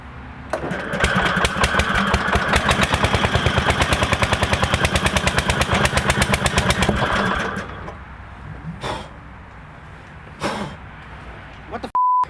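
The Dayton MTD 990 engine runs in a quick test, a loud rapid chattering putter like machine-gun fire for about seven seconds, then cuts out, leaving a few thumps and a short beep.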